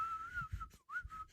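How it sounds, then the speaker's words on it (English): A person whistles a wavering, mid-pitched tune in two short phrases with a brief break between them, close and fairly quiet, while low thumps sound faintly underneath. "stop the whistling"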